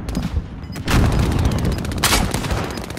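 Enemy gunfire in Call of Duty, repeated sharp loud shots and bursts cracking out over a rumbling battle background, with a heavy volley near the start and another near the end.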